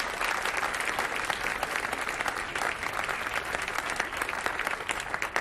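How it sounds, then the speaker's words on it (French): An audience applauds student performers at a commemoration ceremony for the abolition of slavery and the slave trade, a steady, dense burst of clapping that continues without a break and has no talk over it. "Vous pouvez encore les applaudir."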